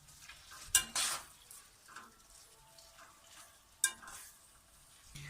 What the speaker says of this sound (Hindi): प्याज को हमने चॉप करके डाला है, ये देखिए, और हम इन्हें इसके साथ भून लेंगे।